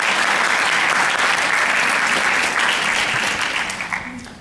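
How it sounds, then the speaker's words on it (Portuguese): Audience applause at a Portuguese-language talk event, a dense, loud, sustained wash of clapping that holds steady before tapering off near the end. "Palmas, por favor."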